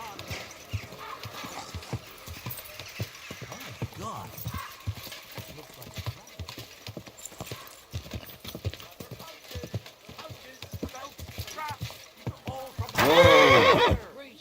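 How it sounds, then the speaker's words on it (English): Steady clip-clop of hooves throughout in the video game Kingdom Come: Deliverance 2, with a loud horse whinny near the end; faint speech-like sounds mixed in. "Easy, good horse."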